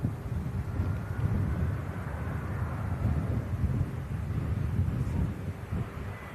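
An easyJet Airbus airliner arriving from Malaga at an airport produces a low, steady, distant roar mixed with wind buffeting on the microphone, with no voices.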